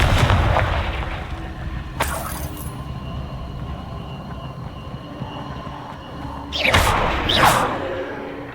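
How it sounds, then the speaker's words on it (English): A Confringo fire spell bursts in Hogwarts Legacy gameplay, with two sharp explosive blasts, one early and a louder pair later, over a steady low game rumble. "Confringo!"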